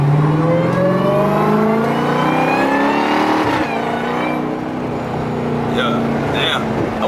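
A car engine revs hard and climbs in pitch, shifts, then winds up again, loud and close, with people talking over it inside the car.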